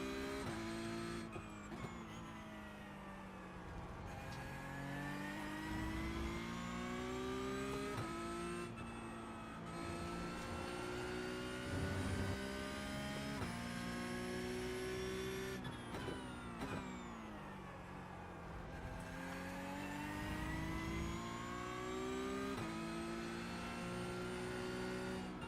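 Race car engine in the iRacing simulator wails at high revs, climbing through gears with brief drops on shifts and braking, continuous and close, no talking.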